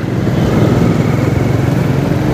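A road vehicle's engine runs loud and close near a toll onramp on South Quirino Avenue in Malate, Manila, a steady rumbling drone with no talking.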